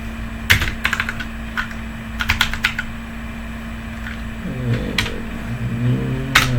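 Code is typed on a computer keyboard in bursts of quick, close key clicks with pauses between them, over a steady low hum.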